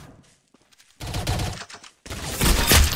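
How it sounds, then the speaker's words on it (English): Video game gunfire in loud, sharp bursts: a sparse crackle at first, then two heavy, dense volleys of rapid shots close up. "Very good shooting."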